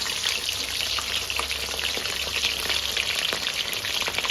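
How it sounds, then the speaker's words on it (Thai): Battered shrimp heads deep-fry in a pan of hot oil, giving a steady, dense crackling sizzle that holds without pause, close and fairly loud. "อันนี้ต้องทอดให้กรอบเลยใช่ไหมคะ"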